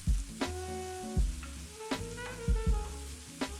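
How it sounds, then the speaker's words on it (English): Mushrooms pan-frying in oil over medium-high heat, with a steady close sizzle interrupted by a few sharp clattering stirs or knocks of a utensil against the pan. "I'm chopping up some mushrooms and I'm letting them pan fry in some oil on medium-high for about 6-7 minutes"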